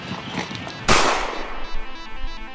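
A single loud, sharp gunshot cracks out close by, its echo fading into a ringing tail against faint background chatter.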